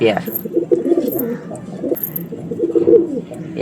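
Madras pigeons coo in repeated soft, throaty phrases close by, with a voice talking among them.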